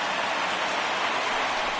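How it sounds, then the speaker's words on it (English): Steady rain pours down during a baseball game in the MLB The Show video game, a dense, even hiss of falling drops holding at a constant level throughout with no voices. "we've mentioned the conditions aren't ideal with the rain coming down"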